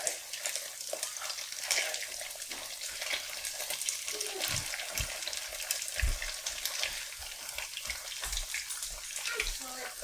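Egg whites frying in olive oil in a pan, a steady dense crackle and hiss throughout with a few soft low knocks from the pan, close and continuous.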